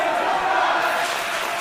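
A wrestling crowd at a live independent show roars for the hometown hero, a dense, loud, sustained wall of cheering and shouting that barely wavers throughout.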